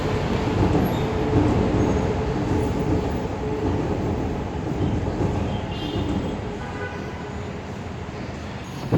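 A train rolls steadily past at Al Karama in Dubai, a continuous loud rumble of wheels and carriages with faint squeals mixed in, heard alone with no talking.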